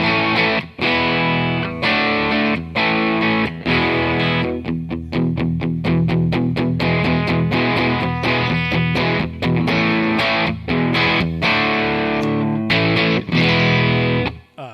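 Heavily distorted electric guitar through a Mooer GE300 plexi amp patch with EQ and reverb, playing loud, dense riffs with sustained chords and sharp rhythmic stabs, continuous throughout with no voices.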